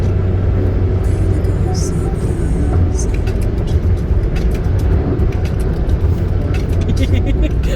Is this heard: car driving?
yes